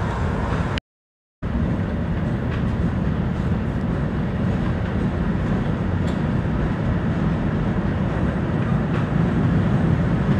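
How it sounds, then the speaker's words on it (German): A train rolls past beside a riverside cycle route in Bremen, a steady broadband rumble with rail clatter holding at close, even loudness throughout, broken only by a brief dropout near the start. "Da kommt der nächste Zug."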